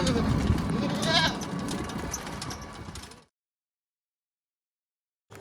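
A goat bought at a livestock market bleats amid busy crowd chatter and people talking, close and fairly loud, before the sound cuts to silence.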